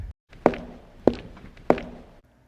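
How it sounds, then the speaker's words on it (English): Three evenly spaced footsteps thud along a hallway, close and distinct, as a sound effect during a children's book read-aloud. No one speaks over them. "They heard footsteps in the hall."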